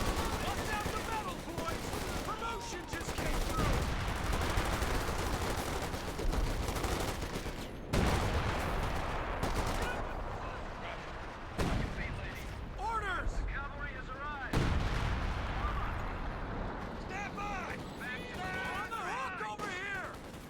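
A zeroing artillery barrage in Company of Heroes 2 rumbles as repeated heavy booms and crackling blasts, loud and continuous, with someone commentating over the shelling.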